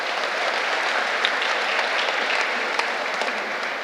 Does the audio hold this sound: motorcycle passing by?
no